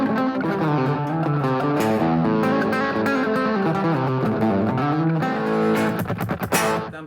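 Distorted electric guitar through a pedalboard with slapback delay, playing a sustained, bending lead line with an effects-laden tone, loud and continuous, ending in a few choppy strums.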